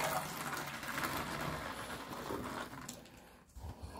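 Fresh water running into a cat's bowl, a close continuous splashing trickle that shifts and thins toward the end, with a brief pause and a few knocks near the finish.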